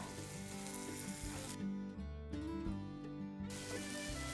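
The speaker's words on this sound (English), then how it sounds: "while we're waiting on the butter to actually melt" Butter melts and sizzles in a pan as the base of a lemon-zest sauce for Parmesan cod, a steady close frying crackle with broad hiss running throughout.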